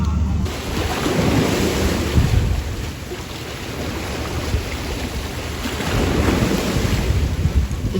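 Residual waves from a ferry just departed Skiathos harbour in Greece wash ashore in a steady, loud rush of surf, mixed with heavy wind buffeting the microphone throughout.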